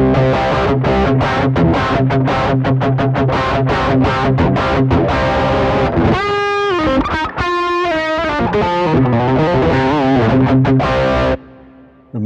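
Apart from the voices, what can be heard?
electric guitar through ZUTA LA25 MKII distortion pedal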